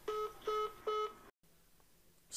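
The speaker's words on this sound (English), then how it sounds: "The phone hangs up." Telephone hang-up tone: three evenly spaced electronic beeps, each about a third of a second long, then a brief silence and faint line noise.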